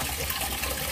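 Water pours into a cooking pan holding soaked pork tapa, a steady close gushing splash through the whole moment.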